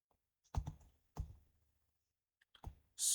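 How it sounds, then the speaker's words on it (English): A few sharp computer mouse clicks in a quiet room, spaced irregularly, close and dry, with a short burst of noise at the end. "Right click on this, click on link."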